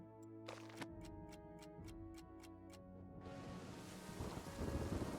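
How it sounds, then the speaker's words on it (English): Steady rain in the trench warfare game All Quiet in the Trenches, a dense continuous hiss that swells louder toward the end, with a regular ticking clock and low rumbling beneath it. "It was still raining."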